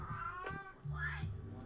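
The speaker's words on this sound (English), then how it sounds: "Jabba is talking to birds and other cats outside." A house cat meows close up, several drawn-out, tonal calls in quick succession, clear and alone in a quiet room.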